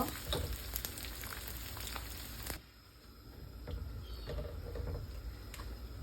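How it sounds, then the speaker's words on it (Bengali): Onion and garlic sizzle and crackle as they fry in a pan, a steady broadband hiss with scattered pops that briefly drops quieter partway through before picking up again, with no voices. "আমি পেঁয়াজ রসুনটা ভালো করে ভাজি করে নেব"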